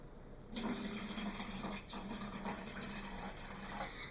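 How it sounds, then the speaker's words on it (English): Water poured into a mixing bowl of batter made with milk, a steady splashing stream that starts abruptly and runs on without pause, fairly close. "Now you want to add some water."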